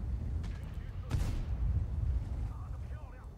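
Tank cannon shot in World of Tanks, a broadband boom near the middle over a constant low engine rumble, with a voice speaking in the background.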